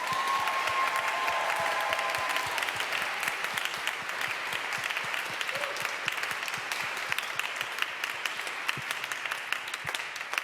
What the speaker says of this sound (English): I will ask for an extra special round of applause for them